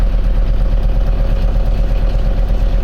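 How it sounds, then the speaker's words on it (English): A 1975 Mercedes-Benz 300D diesel engine idling close by, a steady low rumble with even pulsing throughout and no voices over it. "Oh, it's idling. It's idling."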